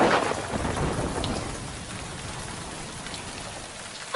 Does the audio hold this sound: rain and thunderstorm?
yes